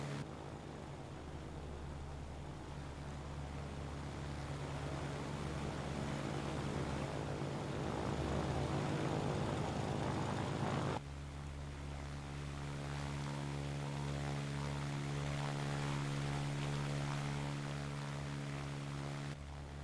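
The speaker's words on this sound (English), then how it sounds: "That plane better land or else I'm going to scream." A propeller airplane drones overhead, a steady engine hum with a buzzing tone that stays loud and continuous throughout, the pitch shifting partway as the plane passes.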